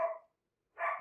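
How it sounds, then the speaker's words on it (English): A puppy barks twice behind closed doors, two short muffled yaps separated by a brief silence, faint and distant. "that is my puppy playing in the background through 2 closed doors."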